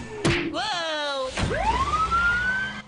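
A cartoon ambulance siren wails with a rising, sweeping tone, preceded by a couple of sharp thumps, loud and close over a busy animated scene.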